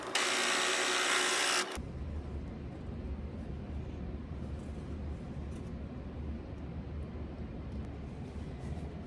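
Sewing machine stitching quilt rows together, a steady, even motor whir with rapid needle chatter running continuously at close range after a brief loud burst at the start.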